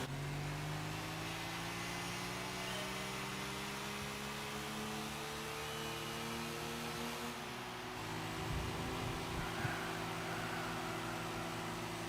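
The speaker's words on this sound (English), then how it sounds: "the engine sound does not change between Gran Turismo 4, 5, and 6" A car engine in the racing video game Gran Turismo 4 drones steadily with a buzzing harmonic hum, its pitch shifting slightly partway through, over a constant hiss of road and wind noise.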